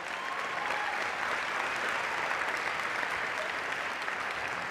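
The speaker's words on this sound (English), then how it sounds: "So please give him a big round of applause." Applause from the crowd at a community pep rally held for a Maysville Final Four basketball team, a loud, sustained roar of clapping that holds constant throughout.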